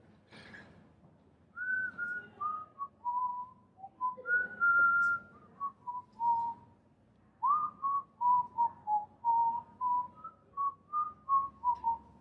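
Someone whistles a melody alone, in a clear, close sequence of short and held notes with brief pauses between phrases.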